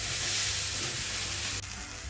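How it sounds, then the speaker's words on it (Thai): A fish fries in hot oil on its second side, giving a loud, close, continuous sizzle that shifts in tone partway through, with no talking. "เดี๋ยวเราจะทอดอีกด้านหนึ่งนะคะ"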